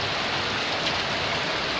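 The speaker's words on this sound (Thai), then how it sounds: "มาดูดูข้างนอกฝนตกแล้ว" Steady rain falls outside a village house at Huai Hin Dam, Dan Chang, a continuous even hiss heard from indoors with no voices.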